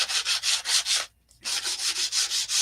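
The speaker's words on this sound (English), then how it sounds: "just kind of go over it and hit it with a sander block" A sanding block rubs back and forth over painted wood to distress it for an antique look, giving steady rhythmic scraping strokes, close and fairly loud, with one brief pause midway.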